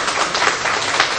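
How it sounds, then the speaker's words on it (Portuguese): A Sunday school class gives a short, brisk round of applause, many hands clapping together loudly and close by. "eles merecem uma salva de palmas"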